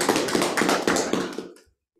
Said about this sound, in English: Warm up applause.